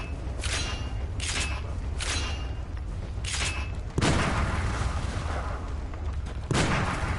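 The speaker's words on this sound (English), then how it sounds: "Oh shit, it's a gun too. Never knew it was a fucking gun. Ah, this sword is a gun." A sword that doubles as a gun fires in the Bloodborne video game: about six loud, booming shots at uneven intervals, with the heaviest blast near the middle, over a constant game background rumble and no talking.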